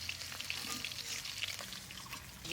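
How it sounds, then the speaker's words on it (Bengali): Magur catfish frying in a little oil in a karahi gives a steady, close hiss and crackle of sizzling throughout, with faint stirring sounds and no talking. "মাছ ভাজা হয়ে গেছে, এবার তুলে নে।"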